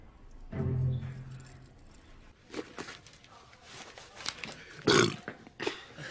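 One deep, drawn-out burp near the start of a scene from a children's TV drama, followed by quieter talking voices.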